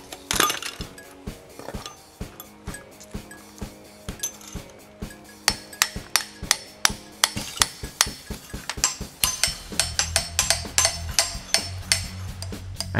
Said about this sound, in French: On débute par séparer les blocs de cheminée, puis tout nettoyer le ciment qui veut bien décoller.